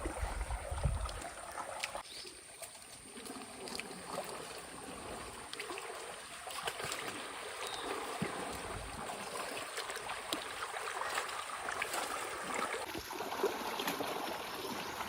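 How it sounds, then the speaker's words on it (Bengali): Water current flowing and gurgling around a boat stuck in a Sundarbans forest canal, a steady low wash with faint trickles and occasional knocks, fairly quiet and distant, with no voices. "জলের স্রোতটা দেখুন শুধু"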